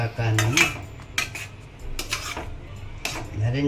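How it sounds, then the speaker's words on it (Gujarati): A spoon clanks and scrapes against a pot while Kathiyawadi eggplant bharta is stirred, with a few sharp metallic knocks in quick succession, close and fairly quiet. "હવે આને એક વખત હલાવી કરવાનું બરાબર."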